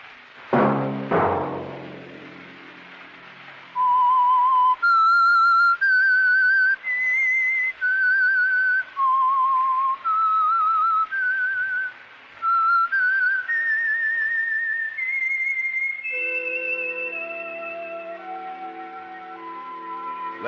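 A clear, close whistled theme tune for a radio program, sustained notes pausing briefly between phrases, ending in a descending run over a held tone.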